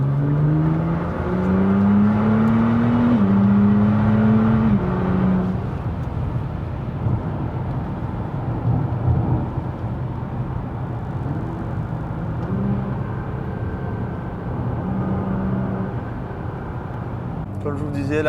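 Nissan GTR R35 with no silencer cruising in sixth gear, a loud continuous engine drone with some rising pitch early on, steady cabin roar throughout.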